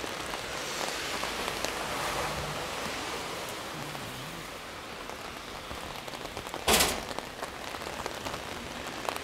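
Heavy rain in the North End falling steadily on pavement and surfaces, a dense even hiss throughout with one sharper splash burst near the end, no talk.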